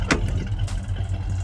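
1968 Ford Mustang with a 289ci V8 idling, a steady low engine rumble with a couple of brief sharper transients, close and fairly loud over a short stretch without talking.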